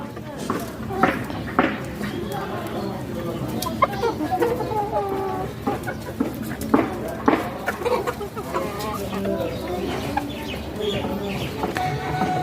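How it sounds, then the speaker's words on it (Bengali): Clucks and calls from an aggressive, restless Kadam Jhuti rooster with a large crest, repeated short bursts close by with other fowl around and a person talking over them. "বড় ঝুটির মোরগটা দেখেন"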